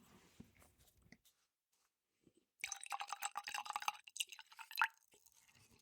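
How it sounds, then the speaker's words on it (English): A bourbon bottle is uncorked with a soft pop and a squeak, then after a pause whiskey glugs and splashes into a Glencairn glass, near and fairly quiet. "Let me crack this bottle open and get a pour."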